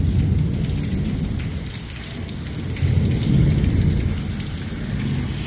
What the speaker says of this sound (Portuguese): Chuva de verão.